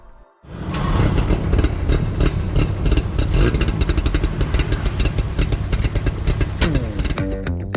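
A Suzuki Jimny fitted with a swapped small-displacement two-stroke engine starts and runs close by, with a loud, raspy, rapidly pulsing idle and uneven clattering beats that persist throughout.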